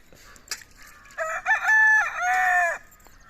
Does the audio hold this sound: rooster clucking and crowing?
yes